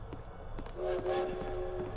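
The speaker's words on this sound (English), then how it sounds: "Train." A train horn blares in a video game, a steady sustained tone rising in loudness partway through and holding over rumbling game ambience.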